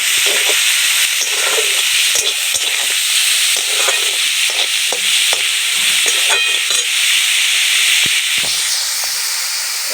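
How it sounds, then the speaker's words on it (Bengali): Grated ginger and garlic fry in hot oil with a loud, continuous hissing sizzle and occasional stirring scrapes. "আদা আর রসুন গ্রেট করে রেখেছি, সেটা দিয়ে দেবো তেলের মধ্যে। ভালো করে কষিয়ে নেব"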